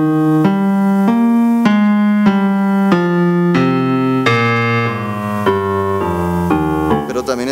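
Music in swing feel, 4/4 time, with a bass walking steady quarter notes beneath a melodic line of evenly spaced pitched notes, close and moderately loud with no talking.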